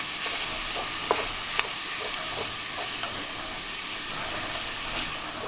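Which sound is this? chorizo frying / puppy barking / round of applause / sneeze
chorizo frying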